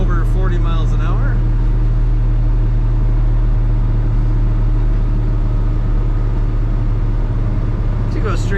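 A 1965 Oldsmobile 442 drives straight down the road, heard from inside as a steady, loud low engine and road rumble, with someone talking briefly at the start and end.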